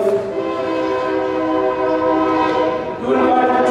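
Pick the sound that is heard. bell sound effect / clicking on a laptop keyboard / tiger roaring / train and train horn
train and train horn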